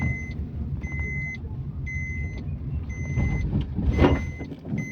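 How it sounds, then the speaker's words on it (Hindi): A new Alto K10 seat belt reminder chimes with its rear belts unbuckled: steady, evenly spaced electronic beeps repeating about once a second over the low rumble of the idling car, with no talk. "देखिए लॉक खुले हुए हैं तो बीप आ रही है।"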